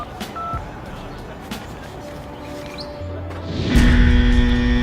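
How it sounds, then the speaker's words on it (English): A cell phone ringtone made of two keypad beeps, short electronic tones near the start followed by a held tone, as background rumble swells loudly toward the end. "I guess her ringtone is just 2 keypad beeps"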